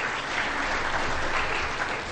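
An audience at a debate on college sexual assault claps for a speaker, a dense, steady burst of applause filling the room throughout.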